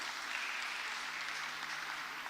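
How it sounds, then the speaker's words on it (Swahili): A church congregation at a Sunday Kikuyu service in Thika town claps steadily for the youth as they come forward, a soft, even wash of applause lasting about two seconds with no voices over it. "tuwapigie makofi wanapokuja"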